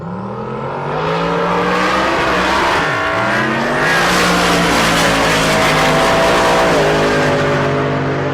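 Loud four-wheel-drive drag race car, a twin-turbo front-engine build, roaring down the strip at Rocky Mountain Race Week, engine pitch sweeping up through gear changes with a brief dip near the three-second mark before howling on steadily.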